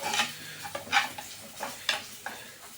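Fish curry masala with a little coriander powder, being stir-fried in a pan, with a soft sizzle under several distinct scraping stirs of a spoon against the pan, spaced about half a second apart, fairly quiet and close.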